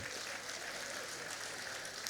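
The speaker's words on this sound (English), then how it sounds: "Can we give the celebrant a round of applause," Applause from an audience honouring a senator's 61st birthday at a colloquium, a steady broadband patter of many hands at moderate level, with no speech over it.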